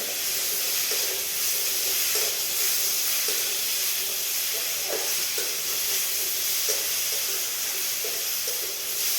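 Cut farmed pond crabs go into a hot pan for an okra sour dish and sizzle with a loud, steady, close hiss that runs the whole time, broken by faint clicks of stirring.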